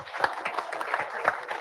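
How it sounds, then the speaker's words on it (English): Short burst of scattered clapping from a small audience at a live truck drivers' meeting, uneven and fairly close, fading quickly. "let's give John and Susan a round of applause"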